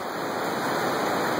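Water rushing steadily through a canyon, a continuous broadband flowing roar, even and close, with no voices.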